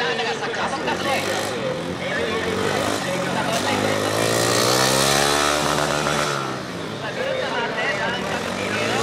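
A GROM motorcycle on a moto gymkhana course revs hard and accelerates, its engine pitch rising and falling through turns, loud and close, while an announcer talks excitedly over it.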